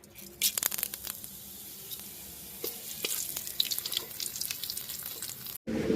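Whole spices (dried red chillies, bay leaf, cardamom, cloves, cinnamon and cumin seeds) sizzle and crackle in hot oil, with steady frying hiss and sharp pops and stirring scrapes throughout, cutting briefly near the end.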